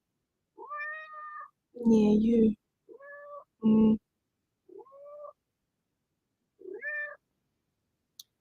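A wet, rain-soaked cat meows repeatedly, close and loud, in short separate calls spread across the moment, while a person speaks briefly between them.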